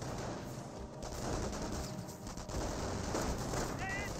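Rifle squad fire in the WWII strategy game Company of Heroes, dense overlapping rifle and machine-gun shots crackling steadily through a busy, fairly quiet battle soundscape, with distant voice chatter mixed in.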